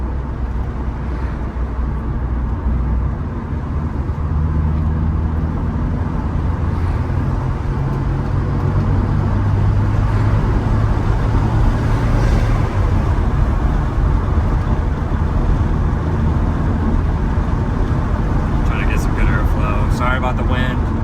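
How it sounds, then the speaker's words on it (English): Inside a 1997 Mitsubishi Eclipse GSX while driving off boost, the engine gives a steady low hum under loud road and wind noise, with a person talking over it. "I mean the car's not loud, and right now I'm not really going into boost"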